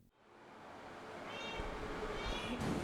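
Cats meowing in an animal shelter's adoption room, a few soft mews rising over a constant low room hum and rustling, fairly faint and at a slight distance.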